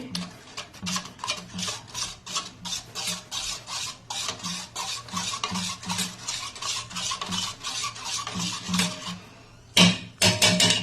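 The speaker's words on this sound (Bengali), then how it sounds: "দিয়ে এটাকে ভালো করে ফেটিয়ে নিচ্ছি" Eggs being beaten with half a spoon of salt and a splash of water, a fast steady run of clinking strokes against the bowl close up, briefly pausing near the end before a few more beats.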